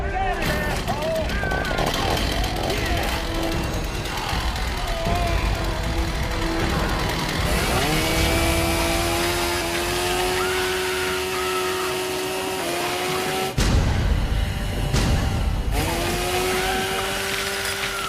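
A chainsaw in a Texas Chainsaw Massacre film revs hard and stays loud, its motor pitch rising and falling in sustained bursts, with a short cut-off near the end before the engine roars again, under a busy film soundtrack.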